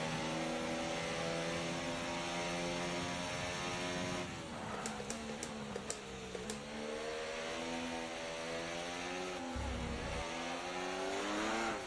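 An F1 24 video game race car spins out, engine revving and dropping in pitch through the gears while tires squeal briefly mid-spin, then the car recovers and accelerates away, loud and continuous.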